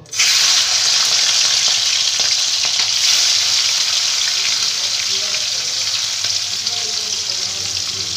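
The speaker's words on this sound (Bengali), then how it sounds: "এবার মাছগুলোকে আমি হালকা করে একটু ভেজে নেব" Fish frying lightly in mustard oil in a wok, a loud, steady, dense sizzle that holds for the full stretch with faint clinks and stirring underneath.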